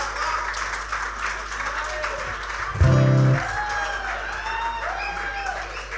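Concert audience applauding a singer at a 19th anniversary show; steady crowd clapping with a low sustained hum, and a brief loud tonal burst near the middle before the applause continues.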